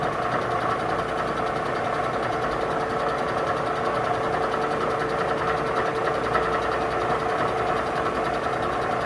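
A Bridgeport milling machine takes an extremely light cut at about 575 RPM with a 7 inch per minute feed, giving a steady mechanical hum and whirr with faint rhythmic chatter, constant and close throughout.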